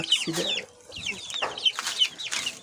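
Chickens cluck in short, irregular bursts at close range, kept in an upper coop near pigeons, with no talk over them.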